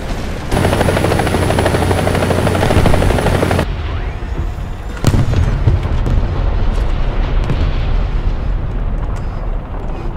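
Helicopter rotor and engine roar from an aircraft in the War Thunder combat game, loud and steady, then an abrupt shift to rumbling booms and blasts that continue at a close, heavy level.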